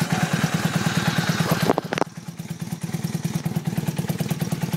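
A motorcycle engine runs with a fast, even rhythmic thrum, a brief clattering catch as it is cranked with the clutch held, then settles back into steady close-up running.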